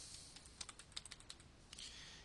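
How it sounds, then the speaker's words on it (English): Quick, uneven keystrokes on a computer keyboard as a name is typed into a Doodle scheduling form, crisp close clicks in a short burst with no talking. "I'll type my name."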